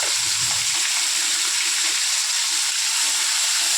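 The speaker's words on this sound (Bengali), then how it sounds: "আচারের তেলটার মধ্যে আমি চিংড়ি মাছগুলো ছেড়ে দিচ্ছি" Shrimp drop into hot pickle-flavoured mustard oil and fry with a loud, continuous sizzling hiss, close and steady from start to finish, with no voices.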